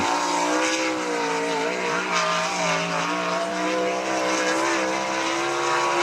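A sprint race car laps the I-96 Speedway track, its engine droning steadily loud and continuous with shifting pitch as it runs through the turns, with no talk over it.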